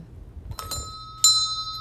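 A small good-luck bell rung once among New Year lucky charms, a bright sustained ring with a clear lingering tone after a few faint taps, close and alone.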